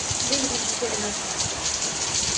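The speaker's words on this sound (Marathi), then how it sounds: "तर बघा किती पाऊस पडतो आणि वीज पण चमकते एकदम बारा सुटला जोराचा खूपच" Heavy rain pours outside during a sudden May downpour with lightning in Anushakti Nagar, Mumbai, a loud continuous hiss and patter filling the scene, with a faint voice briefly audible early on.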